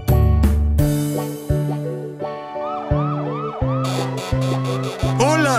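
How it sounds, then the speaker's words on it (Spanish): In an animated children's song, a police car siren wails in repeated rising and falling sweeps over bright, bouncy music. "Un coche de policía patrullando el vecindario, que todo esté tranquilo, de eso me aseguro yo."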